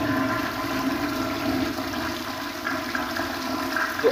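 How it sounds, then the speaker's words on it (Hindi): A wall-hung commode with a concealed cistern flushes after servicing, giving a steady, full rush of running water that continues loudly and evenly throughout with no talking. "अभी हम फ्लश करते हैं"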